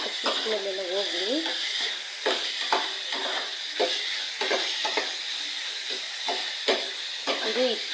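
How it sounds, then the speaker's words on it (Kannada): Turmeric masala fries in a pan for chicken sambar, giving a soft steady sizzle with intermittent scraping stir strokes, while a voice speaks briefly under the cooking sounds. "ಈಗ ಇದನ್ನು ಹೀಗೆ ಫ್ರೈ ಮಾಡ್ಕೊಳ್ಳೋಣ."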